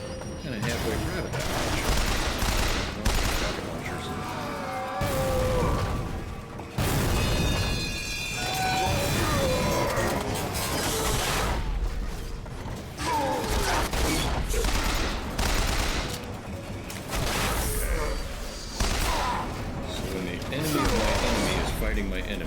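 Rocket launcher fire and explosions in the first-person shooter Bioshock Infinite, dense bursts of booms and gunfire layered under game music and effects, with a player talking throughout.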